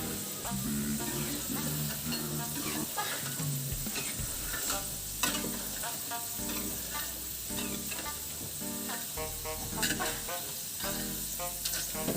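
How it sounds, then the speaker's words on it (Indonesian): Potatoes deep-fry in oil to a crisp skin, a loud, continuous sizzle broken by the scrape and clatter of stirring, with a voice talking intermittently over it. "lalu kita nyalakan api lagi dan kita goreng lagi kentangnya"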